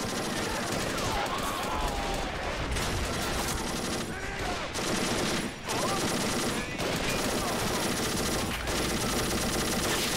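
Rapid machine-gun fire from a tank's coaxial and hull guns in A.M.O.W., a toy-soldier game set during a beach landing, pours out in dense, loud, sustained bursts with brief pauses, layered with other battlefield gunfire throughout.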